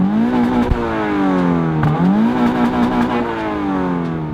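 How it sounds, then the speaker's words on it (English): A boxer engine revs hard toward high RPM, able to climb to almost 8000 RPM and paired with a six-speed manual. Its pitch sweeps up, dips briefly and rises again in a loud, continuous, close-up roar with no talking. "This motor laughs when you rev it, and since it's a Boxer, it sounds fantastic at high RPM."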